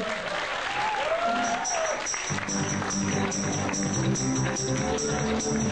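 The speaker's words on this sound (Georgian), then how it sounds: "აპლოდისმენტები" A crowd claps steadily, a loud, dense burst of applause filling the whole stretch, with some faint voices and music underneath at the start.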